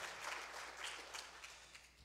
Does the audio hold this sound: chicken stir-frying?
no